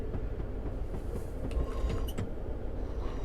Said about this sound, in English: So this is Edinburgh Waverley, where the train terminates.